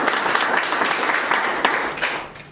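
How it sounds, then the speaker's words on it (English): A crowd at a research trust fund launch event claps in a continuous round of applause, dense and even from start to finish and tapering a little toward the end, with no speech over it. "Round of applause to them."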